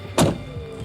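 The front luggage lid of a Koenigsegg supercar is shut with a single close, solid thunk, followed by a faint quiet settle.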